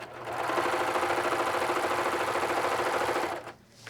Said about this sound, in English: lift up your presser foot just like you did before, pull the thread tail around to the left of the cutter, and then keep serging